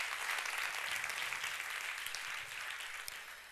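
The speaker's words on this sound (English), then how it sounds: "I think we should give a big hand of applause to all the speakers" A crowd applauds steadily, many hands clapping in a dense, even patter that eases off slightly toward the end.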